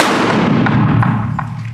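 A single rifle shot fired in a gunpowder test with reloaded brass cases, a short dull boom that fades quickly, heard alone without talk.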